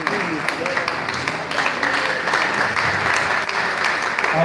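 A crowd applauds steadily throughout at a debate competition, a dense wash of clapping from many hands with no pauses.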